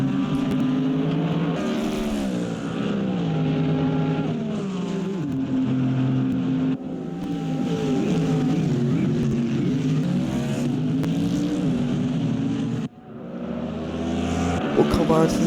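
Mustang race cars lap the Bahrain circuit in a sim racing game. Their engines whine and rise and fall without a break as the cars accelerate and shift, with a commentator talking over the racing throughout.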